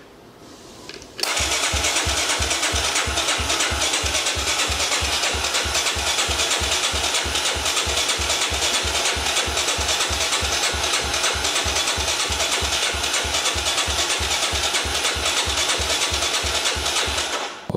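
A 1985 three-wheeled motorcycle engine, started without its choke, cranks over with a fast, regular chugging pulse that runs loud and unbroken for most of the stretch before cutting off.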